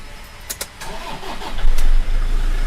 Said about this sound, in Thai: เดี๋ยวติดเครื่องให้ชมคันนี้